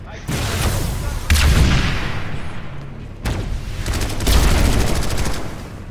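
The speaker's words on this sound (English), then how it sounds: "Doing pretty well with the grenades and the rockets." Repeated grenade and rocket explosions in a team shooter match, loud booming blasts and crackling gunfire layered in several bursts, with faint voices underneath.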